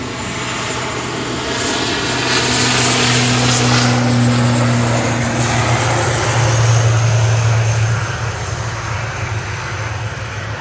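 Virgin Atlantic airliner taxiing on an airport taxiway, a steady loud engine roar with low droning tones that swell and hold through the middle and later parts, close by, with no voices.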